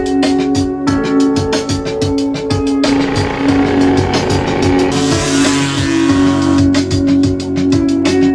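A Peugeot 103 moped rides past with a buzzing two-stroke engine note. It sounds loud and steady with a rhythmic pulsing, rising into a brief louder surge midway. No one speaks.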